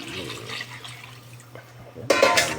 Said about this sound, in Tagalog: Pwede na natin lagyan ng tubig para palambutin.